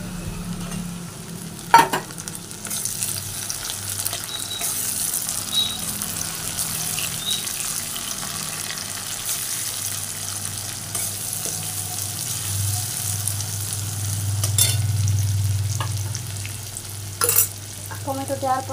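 Sliced onion and tomato fry in oil with bay leaves and a little sugar, giving a steady close sizzle broken by scraping stirs and a few sharp utensil knocks, with a louder bubbling surge near the end.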